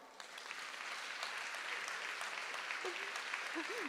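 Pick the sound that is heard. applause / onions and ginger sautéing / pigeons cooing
applause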